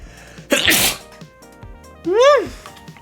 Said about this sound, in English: I feel like I need to sneeze.